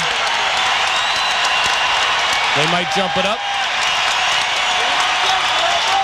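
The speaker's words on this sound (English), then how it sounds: "Crowd getting into it. They're trying to sway the decision." A basketball arena crowd at a 1992 Pacers–Pistons NBA game roars continuously in reaction to a referee's call, a dense, steady wash of cheering and voices under a commentator's talk.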